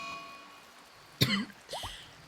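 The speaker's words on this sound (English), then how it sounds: "I apparently need to cough." A person coughs twice close to the microphone, a sharp harsh burst followed by a shorter, softer cough, with quiet room tone around them.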